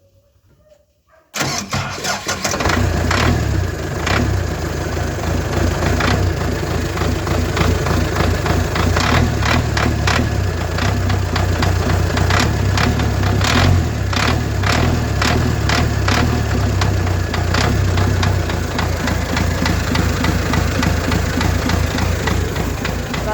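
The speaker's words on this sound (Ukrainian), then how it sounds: "Заводиться, ЗИЛ заводит стартер" A ZIL-130 truck engine fitted with a reduction starter cranks briefly after a moment of quiet, then fires and settles into a loud, steady, close rumbling idle with a slight knocking beat that runs to the end, with no talk.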